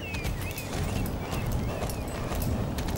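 Hooves of a horse galloping in a video game drum in a fast, steady clip-clop, loud and close, running continuously over a soft ambient game background.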